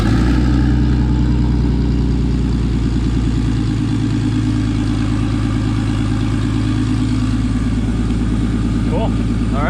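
Engine of a ZKart running steadily near and loud as it is taken off the dyno, a throbbing mid-range rumble with faint rising revs toward the end; a voice may be faintly present under the engine.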